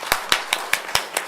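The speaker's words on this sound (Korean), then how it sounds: "그 하나님께 영광의 박수 한번 올려드립시다." A church congregation claps in a quick, even rhythm, six or seven sharp claps about a fifth of a second apart, close and crisp with no voices over them.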